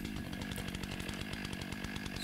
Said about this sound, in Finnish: On pistetty iso saha lämpeämään